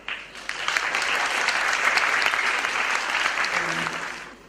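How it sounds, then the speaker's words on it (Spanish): A university audience applauds to welcome a speaker, licensed professional Beatriz Rosels Montalvo, at a talk on traditional Chuquisaca cuisine: loud, dense clapping that swells quickly, holds for a few seconds, then fades. "Vamos a recibir con un gran aplauso a la licenciada Beatriz Rosels Montalvo."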